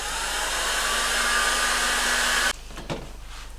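A heat gun blows steadily and loudly while warming heat shrink tubing on a wire, then cuts off abruptly, leaving a few faint handling clicks.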